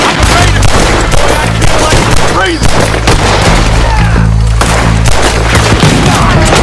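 Gunfire in Red Dead Redemption 2 during a chaotic shootout, loud rapid bursts and heavy booming shots rolling almost continuously, with voices shouting over the fighting.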